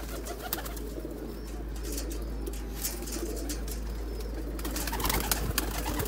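VIP Sialkoti pigeons coo in a steady low murmur, partly buried under constant broadband noise and a low hum.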